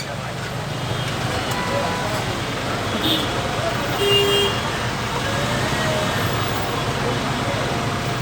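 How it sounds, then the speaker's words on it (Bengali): A night traffic jam in Dhaka, with rickshaws, bicycles, motorcycles, police vans and private microbuses. A dense, constant roar of engines and road noise fills the scene, with a brief tone rising out of it midway. "বাইসাইকেল মোটরসাইকেল এবং রিক্সা সেই সাথে পুলিশের ভ্যান প্রাইভেট মাইক্রো সবই এই জ্যামের কাছে জিম্মি"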